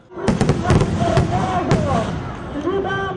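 Celebratory fireworks at a Victory Day parade in Rivne pop and crack in quick irregular bursts close by, over a cheering crowd.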